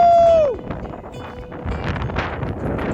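Strong wind buffets a fishing boat on a muskie lake, a steady rushing roar with a brief whistling tone at the start and gusty surges that continue to the end.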